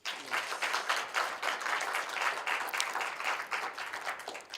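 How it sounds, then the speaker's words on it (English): Steady applause from a crowd, continuous clapping that carries on without a break. "let's give them a good round of applause"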